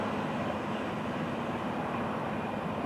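FEC 105, a freight train, rolls past on the line as a steady, loud, continuous rumble and roar with no break and no voices.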